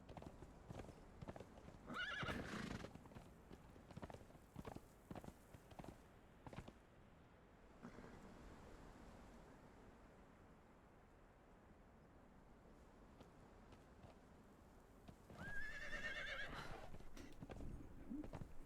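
Horse hooves clip-clop in a video game, with a sharp whinny near the start and another near the end, and quieter footfall-like clatter and ambience in between.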